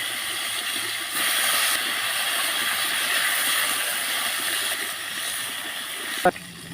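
Potatoes and plantain fry in oil, a steady sizzling hiss with dense crackling that swells briefly, ending with a sharp clink near the end.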